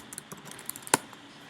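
Quick keystrokes on a computer keyboard tap out an irregular run of soft clicks, ending in one sharper, louder press, close by with no talking.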